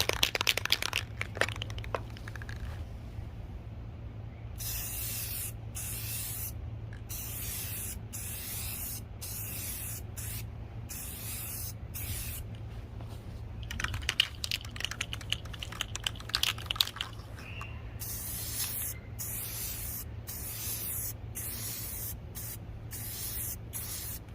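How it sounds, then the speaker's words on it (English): Rust-Oleum satin canyon black spray paint hisses from a shaken aerosol can in a series of short close bursts, then longer steady sprays, with no talking. "I've shaken the can up for a minute and I'm going to give it its first coat"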